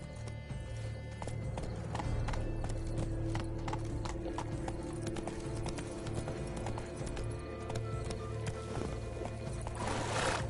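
Horse hooves clip-clop at a steady gallop while riding on horseback in the Witcher 3 video game, rapid rhythmic thuds over a low steady hum, with a brief neigh and no speech.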